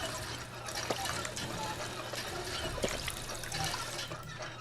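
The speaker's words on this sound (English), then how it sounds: "And then we'll fill up those bottles." Water pours and splashes steadily as bottles are filled at a water pump in the Fallout 4 video game, a continuous liquid rush running under a low background hum.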